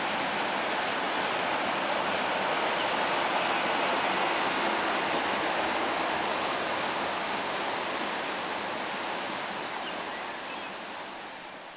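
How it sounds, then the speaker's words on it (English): Water pouring through the sluice of an old mill pond beside the abandoned Thames and Severn Canal: a loud, steady broadband rush that holds constant throughout and eases slightly at the end. "an old mill pond with its sluice"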